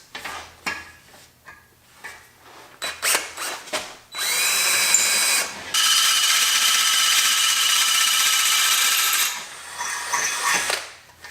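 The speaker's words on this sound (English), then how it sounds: "So we'll be able to drill through the back side like a this." A power drill bores holes through metal bracket plates on a workbench, in short bursts and then two long steady runs of high whine, with brief clicks and handling noises between them.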